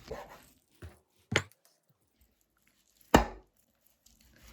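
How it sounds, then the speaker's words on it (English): A knife cuts a fish in half down to the skin on a board: a few isolated dull knocks and scrapes, with two sharp, louder chops standing out against near silence. "Cut the fish in half down to the skin layer and then pull it and cut it."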